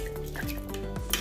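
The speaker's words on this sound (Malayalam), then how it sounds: "ഇളക്കി കൊടുത്ത്" Stirring lentils inside a pressure cooker, with a spoon scraping and clinking against the metal pot in a steady, close rhythm, with no voices.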